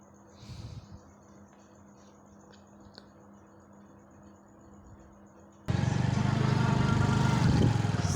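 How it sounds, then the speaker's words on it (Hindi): A motorcycle rides over sand in Pakistan: a long, quiet stretch with faint background noise gives way to a sudden, loud, steady roar of engine and wind that holds to the end. "देखो मोटरसाइकिल जुलते पे रेत दे ताल सैर करें मोटरसाइकिल"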